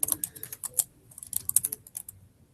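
Quiet computer keyboard typing during a database session: a steady run of light, uneven key clicks for a couple of seconds, close and alone with no talk.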